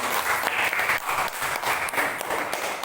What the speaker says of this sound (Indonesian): Tepuk tangan untuk kelompok abang.